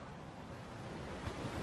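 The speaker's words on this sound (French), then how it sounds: "Il y a un vent très fort qui vient de l'Atlantique" Strong Atlantic wind and crashing waves on Orkney in midwinter form a brief, even, faint roar of surf and gusts with no speech.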